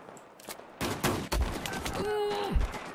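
Revolver shots in Battlefield 1 crack out as a few spaced, punchy bangs in quick succession. A thin whistling tone and a low thump follow, with faint background game noise.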